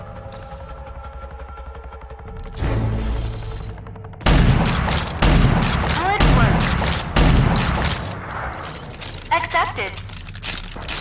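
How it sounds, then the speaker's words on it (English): Arctech shotgun in Rage 2 fires several heavy, booming blasts in irregular succession, loud and close, with a low hum and mechanical whirring between shots. "It's an Arctech shotgun."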